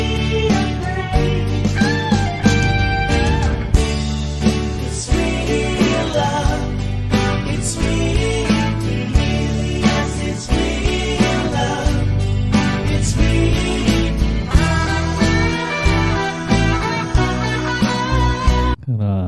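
Electric guitar with distinctive effects, played by a Filipino band covering a song: a sliding, singing lead line woven through a dense, continuous full-band mix.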